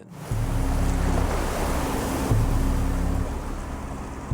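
Ocean waves surround a sinking boat, making a loud, steady roar of surf and rushing water with wind buffeting the microphone, continuous throughout and without any speech.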